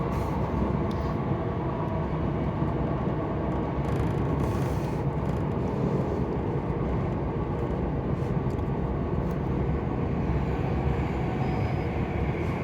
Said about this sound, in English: That must have been an 11 carriage Class 390.